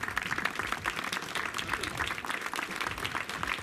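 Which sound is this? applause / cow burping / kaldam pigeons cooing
applause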